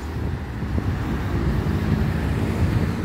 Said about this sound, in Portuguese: Aquele vento que dá no coqueiro.